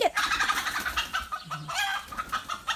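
A chicken clucks close by in a rapid string of sharp, throaty calls, loud and unaccompanied by talking.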